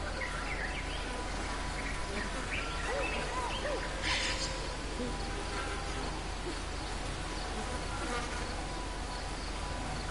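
Bees buzzing steadily around a hidden nest in a game's jungle setting, a continuous droning hum that holds at even volume and mixes with other insect and forest ambience, with no talking.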